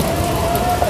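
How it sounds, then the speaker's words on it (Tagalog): Heavy rain pours down steadily in Hanoi, Vietnam, a dense, loud hiss of drops hitting nearby surfaces with no break, and a faint tonal hum running underneath. "Sobrang lakas ng ulan,"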